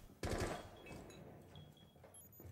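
Suppressed MP5SD fire in Rainbow Six Siege during a Pro League match on Villa, a short burst of muffled rapid shots at the start followed by fainter scattered game sounds, with no talking.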